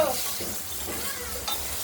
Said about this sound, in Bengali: আলুগুলোকে আমরা ভেজে নিচ্ছি।